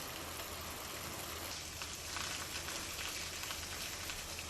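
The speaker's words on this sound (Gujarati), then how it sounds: "તાલુકાના ગ્રામ્ય વિસ્તારોમાં ધીમી ધારે વરસાદ શરૂ" Light rain falls steadily over rural village land in Amreli, Gujarat, a soft even patter of drops on surfaces heard alone without any voices.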